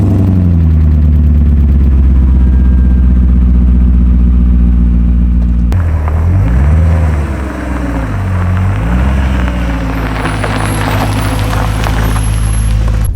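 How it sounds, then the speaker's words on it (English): A BMW with no muffler fires up from a cold start, its loud, raw exhaust droning steadily up close, then rising and falling through a few revs before settling back into a rough, constant rumble. "Here's a little cold start for you guys. I have no muffler."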